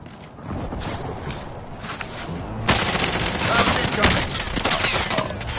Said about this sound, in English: they shooting through the window